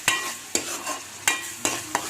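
Ground masala paste stirred into hot oil for a meat bones curry: about five sharp scraping strokes of a spoon against the pan, spaced unevenly over a steady, close sizzle, with no voices.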